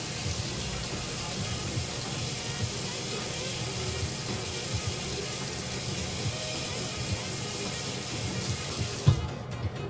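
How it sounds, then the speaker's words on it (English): Warm water runs from a tap while a cloth is dampened, a soft steady hiss and trickle with faint splashy bumps, fairly quiet and close, ending with a brief knock. "I'm gonna use warm water and I'm gonna damp it in my cloth and take it off."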